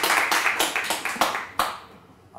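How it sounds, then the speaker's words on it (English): An audience at an aviation industry lecture claps in a rhythmic burst of applause that fades away after about two seconds. "But give some applause to Professor Semp."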